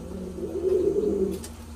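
Pigeons coo close by in a low, soft, rolling warble lasting about a second, followed by a couple of faint clicks.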